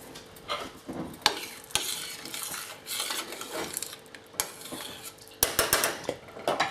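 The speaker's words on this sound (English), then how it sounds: "And stir it in until it's all melted." Butter being stirred into a pot just taken off the heat, with a spoon scraping and clinking against the metal in uneven strokes over a faint sizzle, close and fairly loud, no voices.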